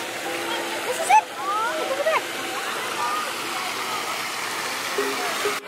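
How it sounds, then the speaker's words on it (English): Water splashes onto a camera lens at a water park, with a couple of sharp splats against a steady rushing water background while a voice briefly speaks. "We got a few splashes on the lens"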